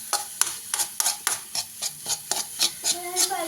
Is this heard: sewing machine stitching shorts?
no